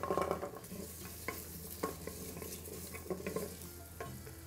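Ginger and garlic frying in oil inside a multi-cooker, a steady close sizzle with scattered stirring clatter at irregular intervals and no talk.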